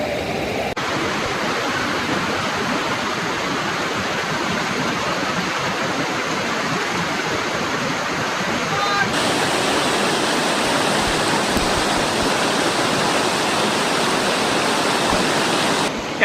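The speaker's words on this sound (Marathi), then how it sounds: "हे दोन्ही प्रवाह इथे येऊन मिळतात आणि पुढे एक पूर्ण नदी होऊन जाते" Two streams rush together near Lingyaghat waterfall, making a loud, dense, unbroken roar of water that continues the whole time and gets slightly brighter partway through. There is no talking.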